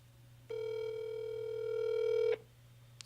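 A flip phone being dialed gives one sustained electronic tone lasting about two seconds, clear and steady over a low hum, followed by a few faint clicks.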